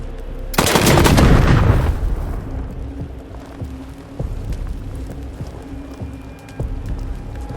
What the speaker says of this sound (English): Incoming fire! Taking cover!